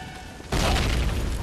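A sudden loud grenade explosion in Call of Duty bursts in midway and rumbles on, full and booming, after a quieter stretch of low background noise.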